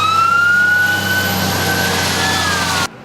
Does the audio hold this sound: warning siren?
yes